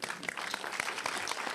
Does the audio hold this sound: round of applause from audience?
yes